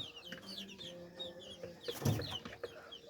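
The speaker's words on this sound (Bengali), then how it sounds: "মুরগি" Quiet clucking from chickens close by, with soft chirps and one louder cluck near the middle, no talking.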